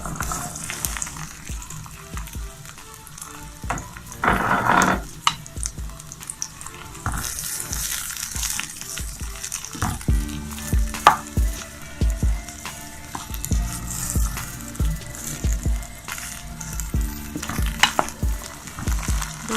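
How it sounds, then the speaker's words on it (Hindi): Okra (bhindi) fries in a cup of hot oil, a close, bubbling sizzle that rises and falls with bursts of stirring and utensil clatter throughout. "दो से 3 मिनट के लिए भिंडी को फ्राई कर लेंगे हम।"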